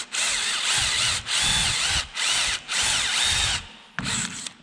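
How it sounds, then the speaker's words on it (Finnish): A power drill spins a bit against a rusted bolt on a trailer, several whirring bursts of a few seconds each broken by short pauses. "se poraanterä lähtee niin kiertämään tuota pulttia"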